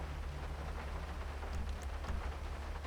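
Steady rain from video game weather set to rain, used to test working windscreen wipers on a modded car, a constant even hiss with low rumble underneath and faint scattered drop ticks.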